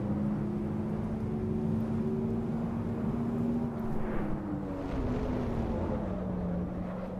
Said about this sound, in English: you can hear the curbs, you can hear the tires